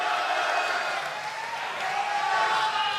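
In the studio of a televised regency election debate, the audience applauds a candidate pair. Moderate, even clapping continues steadily throughout, slightly distant and without speech on top.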